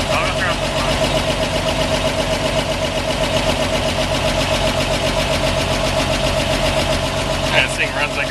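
A 1946 Chevy two-ton cab-over truck engine runs steadily at idle after a head rebuild, a continuous mid-pitched rumble close by, with people talking over it.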